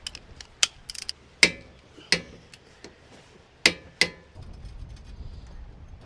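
Sharp mechanical clicks come from a torque wrench tightening the front driver-side CV axle nut on a Toyota Camry to 217 foot-pounds: about seven isolated ratchet snaps at irregular intervals, ending in a low rumble.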